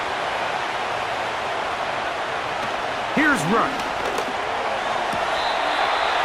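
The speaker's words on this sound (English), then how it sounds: "This crowd into it now as we get to 3rd down." Stadium crowd roar from the Madden 25 football game, Cowboys against Commanders on a third down, a steady wash of noise throughout with a brief announcer voice over it.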